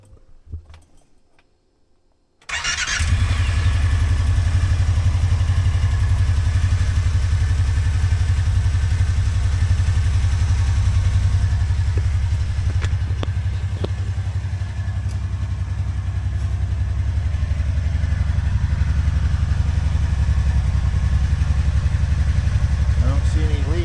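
A Kawasaki Teryx utility vehicle's engine turns over and catches after a couple of quiet seconds, then settles into a steady, loud, close idle that runs on with slight variations.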